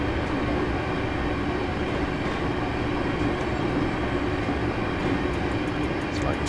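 ScotRail Class 385 electric train running on a summer evening service to Alloa in Train Simulator, a steady continuous rumble of wheels and motors with faint rail clatter throughout.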